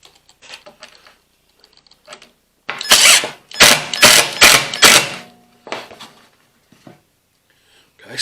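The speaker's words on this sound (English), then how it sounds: "So now I'll put in the other screw." A screw driven into a DIY landscape fabric pin inserter, heard as a loud run of four or five whirring drill bursts in the middle, with lighter taps and handling clatter before and after.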